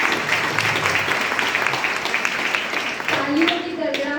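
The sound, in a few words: audience applause welcoming the speaker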